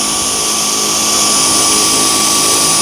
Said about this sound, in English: Vacuuming is the majority of getting dirt out of carpet.